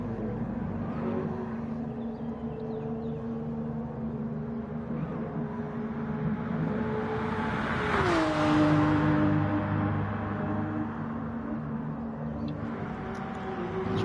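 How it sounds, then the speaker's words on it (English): A GR3 race car spins celebratory donuts in a racing video game, its engine droning steadily with a swelling rev and a falling pitch midway, tires and motor blending into a continuous mid-level roar. "just doing some celebratory donuts"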